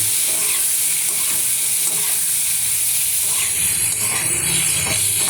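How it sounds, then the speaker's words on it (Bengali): Onions sauté in a pan with a loud, continuous close sizzle and hiss, and occasional stirring scrapes come through underneath. "পেঁয়াজগুলো কষা হচ্ছে"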